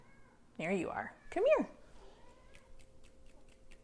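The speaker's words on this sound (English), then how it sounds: "I don't know if you guys can hear her meowing." A house cat meows twice in quick succession, close by and fairly loud, with a person talking softly nearby before and after.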